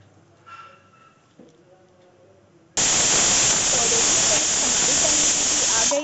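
A pressure cooker lets out its whistle, a sudden loud, continuous steam hiss that bursts in after a few seconds of quiet kitchen noise and holds steady to the end.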